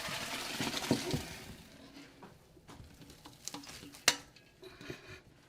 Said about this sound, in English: So we are gonna now empty this in a strainer.